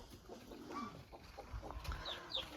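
Chickens clucking softly in a coop, with a few short calls close by over low farmyard background noise; no talking.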